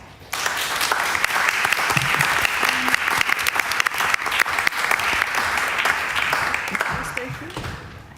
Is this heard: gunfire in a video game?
no